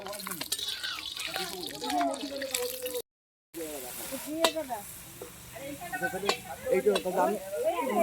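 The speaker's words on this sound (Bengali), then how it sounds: "তারপরে ডিমের ঝাল করার জন্য পেঁয়াজ ভাজা হচ্ছে" Onions fry in a pan as the base for an egg curry. Sizzling mixes with stirring and splashy water sounds in a home kitchen, broken by a short gap, with voices audible in the background.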